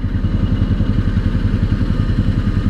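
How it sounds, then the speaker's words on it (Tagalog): A motorcycle with an open exhaust pipe idles steadily up close, its loud, throaty low-end chugging in a fast, uneven rhythm with no other sounds. "Pero maingay ba motor ko?"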